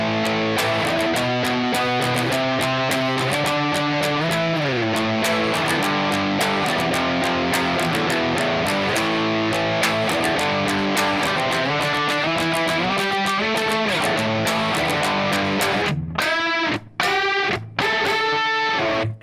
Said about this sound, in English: that main guitar part in the second half of the last chorus sounds like